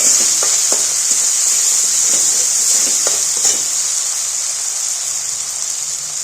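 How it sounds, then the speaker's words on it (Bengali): A spice paste with ginger paste and a little sugar fries loudly in a pan for Saraswati puja khichdi, with a strong continuous sizzle and clicking stirring sounds in the first few seconds. "মশলাটা আমার ভালো মতো ভাজা হয়ে গেছে।"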